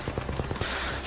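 A burst of rapid gunfire in a first-person shooter video game, several sharp shots in quick succession over about half a second, close and loud with game ambience continuing after.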